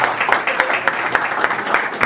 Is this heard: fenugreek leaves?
no